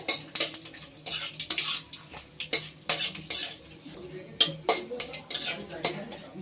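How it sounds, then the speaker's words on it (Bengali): Cumin, cinnamon and cardamom spluttering in hot oil for a vegetarian Bengali matar ghugni, with repeated sharp pops and clinks of a metal spoon against the pan, close and fairly loud. "অল্প একটু সাদা জিরে, দারচিনি আর এলাচ। এগুলো কিন্তু অবশ্যই ফাটিয়ে নিতে হবে।"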